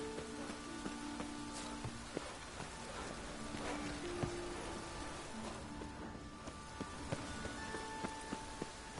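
Rain pattering down in The Witcher 3, a quiet continuous hiss of drops with occasional footstep-like taps and faint tonal game ambience, no speech.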